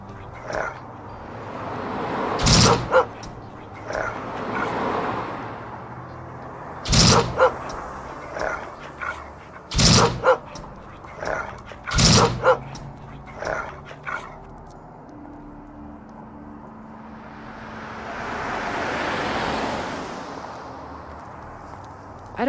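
A dog barks in sharp, loud bursts in the game Memento Mori 2, with a few spaced barks and yips scattered through the scene, then fading into a softer ambient swell.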